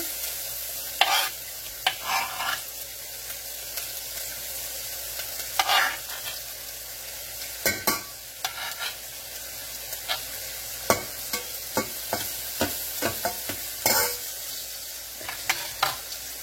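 Garlic frying in a pan over low heat gives a steady, soft sizzle, broken by frequent scrapes and knocks of stirring. No one speaks.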